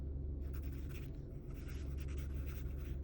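Pen writing on paper held on a lap, soft rhythmic scratching strokes, close and quiet, over a low steady background hum with no talk.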